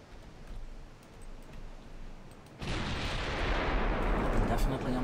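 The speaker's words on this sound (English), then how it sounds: "I am under fire." Naval guns fire in the warship game Ultimate Admiral Dreadnoughts, a low rumbling barrage that swells abruptly midway into sustained heavy booming, with a voice briefly speaking over it.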